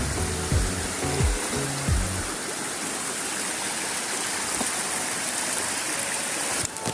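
River water flowing at Yaroa near Puerto Plata, a steady broadband rush close by, with a few low tonal sounds early on and no talking.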